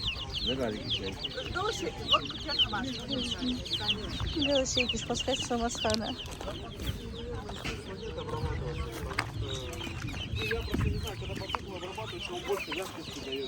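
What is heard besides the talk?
chickens clucking at a market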